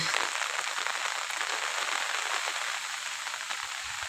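Steady hiss of rain falling on surfaces, even and continuous throughout, moderately loud with no voices.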